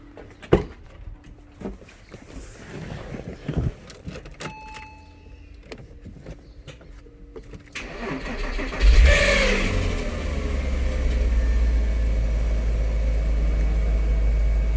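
A few clicks and thumps, then a car engine cranks briefly and catches, settling into a loud, steady idle rumble close by.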